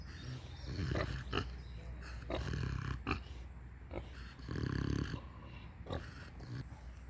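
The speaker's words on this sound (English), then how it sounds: "It's a big pig." A pig grunts and snorts repeatedly up close, with short rough bursts and a longer wheezy snort, the noises uneven and loud.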